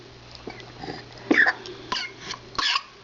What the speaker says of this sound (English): Let's wait till you're done coughing.